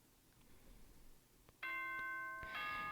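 The Danganronpa Trigger Happy Havoc school announcement chime rings out as a bright two-note ding-dong after a quiet moment, loud and clear over faint background hum.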